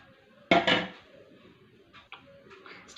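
Momo stuffing of onion, coriander leaves, grated carrot, chili powder and salt mixed in a bowl: a sharp clatter and scrape of a utensil against the bowl, then a few fainter clicks and knocks, close and otherwise quiet.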